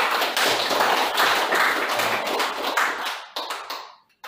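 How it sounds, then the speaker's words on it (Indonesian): A classroom of students claps together in a loud, dense burst of applause lasting several seconds, then tapering into a few scattered claps before stopping. "Oke, tepuk tangan dulu"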